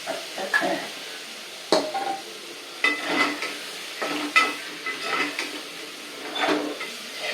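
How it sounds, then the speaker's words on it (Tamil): Sambar powder and asafoetida fry in a pan for sprouted green gram sambar, giving a soft continuous sizzle with intermittent scraping and stirring clicks of a utensil against the pan, close and moderately quiet. "இந்த மாதிரி வறுப்பாங்க இப்போ வந்து வறுக்கும் போது இந்த பொடியோட வாசனை போய் நல்லா வறுபட்ட வாசனை வேணும்"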